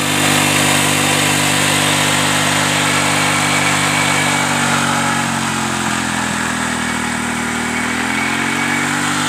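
Steady drone of a motorcycle engine used to pump rainwater out of a wheat field, running at a constant rate, loud and close, with a slight shift in pitch toward the end.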